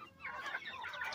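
Four-month-old Penedesenca hens in a pen at a poultry sale, clucking and chattering together in a busy, continuous stream of close calls with no talk over them.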